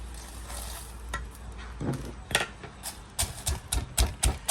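Curry paste of galangal, garlic, shallots, salt and dried chili pounded in a mortar, with irregular thuds that turn into a quicker run of heavy knocks near the end, close by and with no talk.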